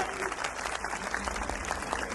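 An audience at a community gathering in Surat applauds a youth team, giving dense, steady clapping throughout.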